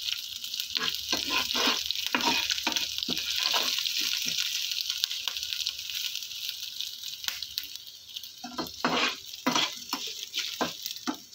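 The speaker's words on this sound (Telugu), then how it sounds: "పోపుని సిమ్లో పెట్టి వేయించుకోవాలి." Dried red chillies, cumin, mustard seeds and curry leaves fry in hot oil on a low flame as a tempering for semiya pulihora, giving a steady close sizzle with repeated crackles and pops throughout.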